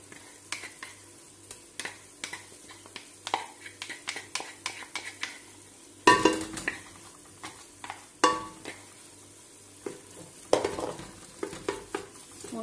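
Sliced onion with a spiced marinade frying in a pan for Algerian lamb chtitha, a steady sizzle under repeated scraping stirs and sharp utensil knocks against the pan, close and fairly loud.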